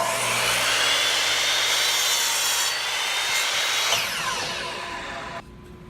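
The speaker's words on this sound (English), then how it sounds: "and we're going to cut on our chop saw." A chop saw slices through a wooden board, its motor whining loud and close with a steady cutting roar that ends abruptly as the blade finishes and begins spinning down.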